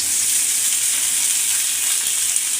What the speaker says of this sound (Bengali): এখন দিয়ে দিলাম সয়াবিন তেল, এরপরে দিয়ে দেব কাঁচা মরিচ, পেঁয়াজ